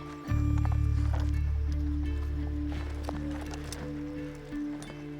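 Horses being led on foot over a rocky, boulder-strewn mountain trail, hooves clattering and scuffing irregularly at close range over a steady low rumble, with no talk.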